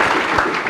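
Loud, dense applause from a crowd at a gathering, steady clapping filling the whole brief moment without pause.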